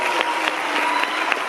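An audience claps steadily at a school event, a close, even wash of applause that holds at the same level throughout with no voices standing out.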